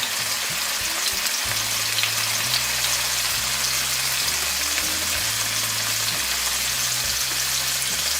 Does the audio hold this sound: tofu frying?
yes